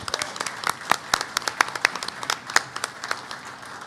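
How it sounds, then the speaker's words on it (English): Applause at an annual business meeting, with distinct individual claps standing out over a thinner, moderately sized clapping audience, heard close and without talk. "Please give this board a huge round of applause because they have worked tirelessly."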